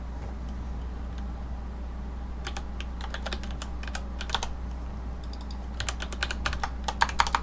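Someone types on a computer keyboard: scattered light key clicks that grow into quicker clustered bursts, close and fairly soft over a steady low hum.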